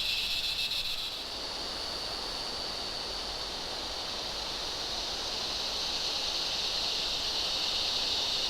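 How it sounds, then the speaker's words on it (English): A steady, dense high-pitched cicada buzz drones on continuously, loud and unbroken, with a faint rush of Australian bush ambience on Mount Tamborine beneath it. "Those cicadas are going off."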